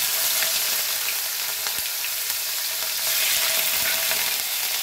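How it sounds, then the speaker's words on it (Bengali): Onion paste hits hot oil in a pan for a shahi egg korma and fries with a steady, close, bright sizzle that holds for the full stretch, with no talking. "এখন আমি পেঁয়াজ বাটাটা দিয়ে দিচ্ছি"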